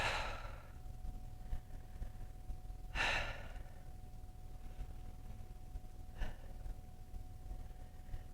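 Slow breaths drawn in through the nose and let out through the mouth during a leg exercise break, with a few soft airy exhales spaced several seconds apart under a steady low background hum.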